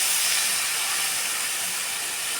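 Chopped ridge gourd hits a hot pan and sizzles in a steady, bright hiss that holds evenly close to the mic throughout, with no voices over it.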